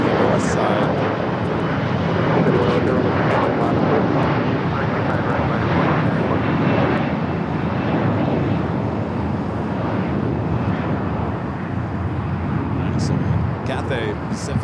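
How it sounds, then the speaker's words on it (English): A Cathay Pacific Boeing 777 airliner at LAX, heading for runway 24 left on its way back to Hong Kong, gives a steady, loud broadband jet roar that holds for the whole stretch, with a voice talking over it. "Cathay Pacific, the 777 heading back to Hong Kong, heading up to 24 left"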